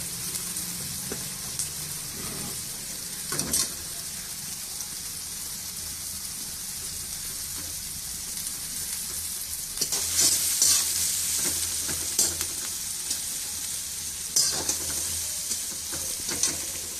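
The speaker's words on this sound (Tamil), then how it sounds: "வெங்காயம் பச்சை மிளகா போட்டு நல்லா வதக்கணும்" Onions and green chillies sauté in a pan, a steady frying sizzle broken by repeated scraping stirs, close and moderately loud, with no voices.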